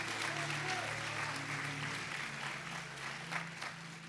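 An audience applauds in a church service, a dense wash of clapping that stays fairly steady and moderately distant, with some voices mixed in.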